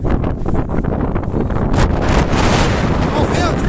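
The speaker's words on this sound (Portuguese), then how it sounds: "Olha o vento." Strong wind blasts across the microphone on the snowy Serra da Estrela mountain, a loud continuous roaring buffet close by, with a voice speaking briefly beneath it.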